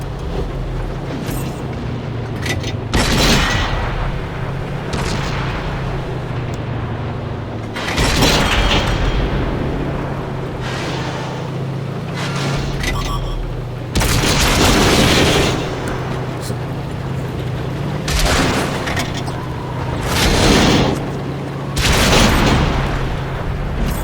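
Heavy tank gunfire in the World of Tanks game, with several loud booming shots and impacts spaced a few seconds apart over a steady engine rumble.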